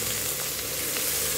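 Pork stir-fries with snow peas and carrots in a hot pan, a loud, dense, continuous sizzle filling the short moment.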